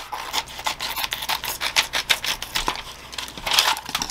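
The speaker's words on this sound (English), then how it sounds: "And now I'm going to cut off that couple inches that I folded up." Scissors snip through folded-over vinyl wrap on a tumbler, giving close, crisp rasping cuts in a quick irregular series, with no talking.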